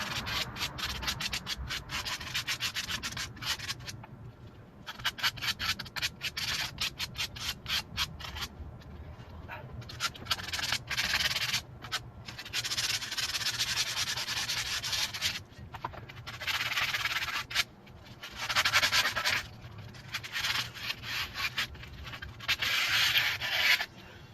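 Rust is sanded off a truck wheel by hand in repeated scrubbing strokes, a rough, close rasping that starts and stops in bursts with short pauses across some twenty-four seconds, with no speech.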